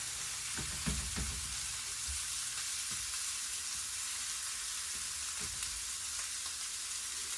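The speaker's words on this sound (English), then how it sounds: "just the onions here we're cooking, just to soften them up a little bit" Onions sizzle and fry gently in a pan as they soften. A steady hiss runs throughout with a few soft stirring knocks, and no one talks.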